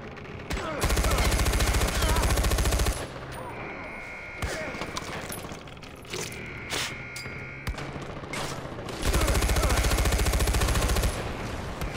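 Machine gun fire in the video game Far Cry 4, two long loud sustained bursts of rapid automatic shots separated by a stretch of scattered gunfire, thuds and crashes, with someone talking in between.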